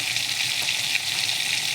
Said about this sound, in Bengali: সেই মাছগুলি ভাজা হচ্ছে, আপনারা দেখতেই পারতেছেন কীভাবে মাছগুলি ভাজতেছি।